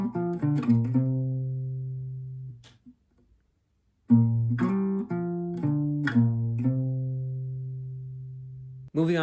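Solo guitar playing section 1 of a song, live looping style: a run of plucked, ringing notes, a short silent gap, then another phrase of plucks with sustained low tones and a final attack.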